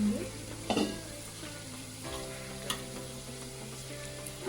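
Whole spices, cinnamon, cardamom and cloves, sizzle in hot oil in a pan with ginger garlic paste, a soft steady crackle punctuated by a few brief scraping stirs and clinks, close and quiet, with no talk.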